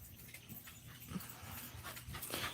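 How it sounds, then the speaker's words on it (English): A farm dog panting steadily and close by in rapid breathy bursts, with a faint whimper and some shuffling in the background. "Farm dog, Batman"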